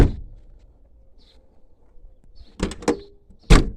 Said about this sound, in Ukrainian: Двері зачиняються.